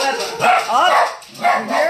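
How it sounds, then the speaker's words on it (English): Dogs bark nearby in a series of short, loud barks and yips, heard under and between a person talking. "So you may hear them barking."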